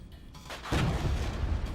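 Artillery strike landing in the Regiments military strategy game, a sudden deep boom hitting partway through, followed by a sustained low rumble and crackle that stays loud to the end.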